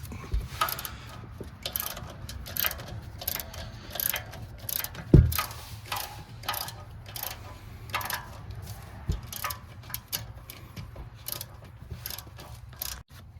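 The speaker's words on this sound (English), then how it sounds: "you also need to use the 16mm wrench and hold while you loosen it" A 16mm wrench loosens the rear brake caliper bolts on a 2011 BMW 528i, giving quiet repeated ratcheting clicks and metallic scrapes in short irregular bursts, with one sharper knock partway through, close up and fairly faint.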